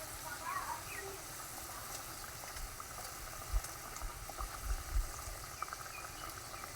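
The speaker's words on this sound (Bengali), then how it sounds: "অনেকটা ফুটতে লেগেছে" A pot of fish curry with yoghurt-braised catla bubbles steadily at a low rolling boil, a soft continuous burble with occasional louder pops close by.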